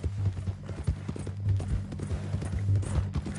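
Rhythmic clip-clop of a horse's hooves in a Western video game, steady and fairly close, with a low rumbling bed underneath and no talking.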